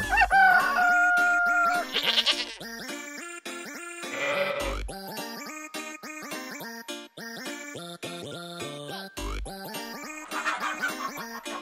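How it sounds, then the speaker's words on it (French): Goats bleat and chickens cluck and crow in a busy farmyard in central Corsica, calls overlapping continuously and close by, with a few sharp thumps. "on passe parmi les chèvres et les poules avant une prochaine pause"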